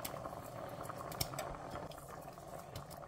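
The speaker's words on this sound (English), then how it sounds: "Boiling the chicken is the hardest thing." Chicken boils in a pot on the stove, a quiet, steady bubbling and gentle popping rattle heard close up with no voices.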